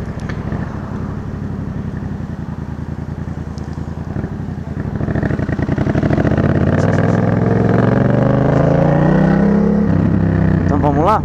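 A motorcycle engine heard through a rider's helmet microphone on a track, droning steadily at first, then rising into a loud, climbing rev as the bike accelerates, with wind rush over the close engine note.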